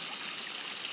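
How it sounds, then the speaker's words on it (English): Steady, close splashing of outflow water from a Summer Escapes above-ground pool pump pouring back into the pool, a continuous trickling stream with no pauses. "we're using outflow, the water that gets put back into the pool"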